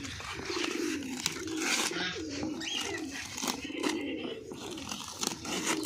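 Racing pigeons coo softly in repeated low, rolling calls amid steady background noise, with occasional faint voices.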